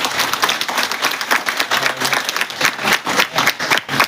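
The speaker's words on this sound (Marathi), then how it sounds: "टाळ्या जोरात व्हायला हव्या।" An audience at a police officer's retirement day function applauds with steady, dense clapping that carries on evenly throughout, loud and close with no pauses.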